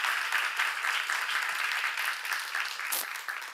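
Applause from a church congregation at a Korean sermon seminar, steady dense clapping at moderate distance, continuous throughout with no break.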